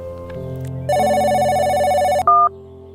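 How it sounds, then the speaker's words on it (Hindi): A telephone ringback tone plays while a call is placed on a mobile phone: steady electronic ringing tones held for over a second, then a brief higher beep as the call connects, loud and alone with no voices. "घंटी तो जा रही है।"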